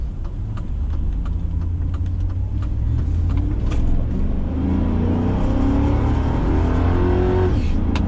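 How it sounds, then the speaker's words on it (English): A Chevrolet Tahoe with a newly installed transmission accelerates at wide open throttle, a loud, close engine roar building steadily in pitch from inside the cabin with no pause for a gear change. "Let's give it one more wide open throttle."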